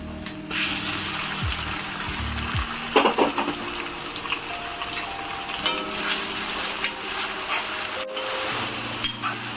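Finely chopped onion frying in a pan after garlic has browned, for Punjabi-style palak paneer: a continuous sizzle with occasional stirring scrapes and knocks, plus a few watery splashes, without any voices.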